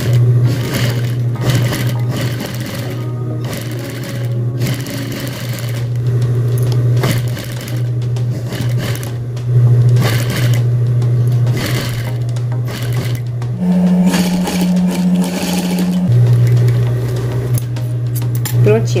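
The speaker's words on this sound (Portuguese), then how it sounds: "Agora eu vou dar um retrocesso e vou fazer essa costurinha." Sewing machine stitching the zipper flap of a lab coat, a steady loud motor hum running almost continuously with a brief pitch change near the end, with faint talk underneath.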